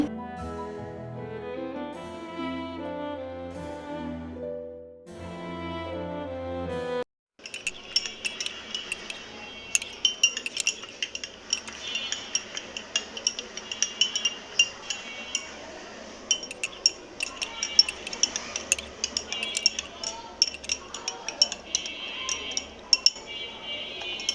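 Cups and spoons clink sharply and irregularly at close range while hot tea is made at home. Soft tonal music plays for the first few seconds before the clinking begins.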